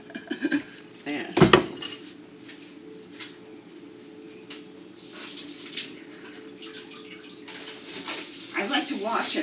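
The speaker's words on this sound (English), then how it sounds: "I like to wash it about 3 times, cold water." Quinoa is rinsed in cold water in a metal sieve at a kitchen sink, with sharp clanks of metal, scraping rattles and splashing water close up, with speech in the background.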